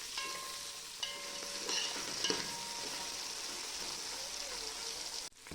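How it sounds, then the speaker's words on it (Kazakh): Meat, onion, potato and carrot fry in hot oil for a macaroni shashpa dish, giving a steady, fairly loud sizzle with occasional stirring clicks and no talking. "Қызып тұрған майда етті, оның артынан пияз, картоп және сәбіздерді қуырып аламыз."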